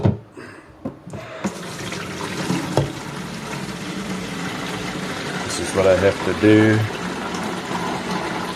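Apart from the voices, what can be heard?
watering cacti with a watering can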